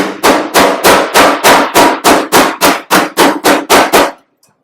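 Hammer blows on a metal panel, tightening its contour during fabrication of a custom build: about a dozen loud, sharp strikes in a steady, even rhythm, close by, with no talking, ending in silence.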